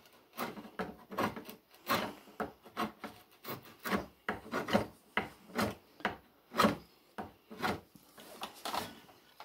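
A bevel-side-down draw knife shaves wood while shaping a chair part, making about twenty rhythmic rasping strokes, each a short close scrape in a steady back-and-forth pattern, with no talk.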